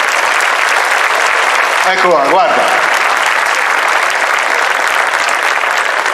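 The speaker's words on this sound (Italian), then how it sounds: "ma più forte l'applauso" An audience at the Miss Toscana beauty pageant show applauds steadily throughout, a dense sustained wash of clapping, with a brief spoken remark cutting in partway.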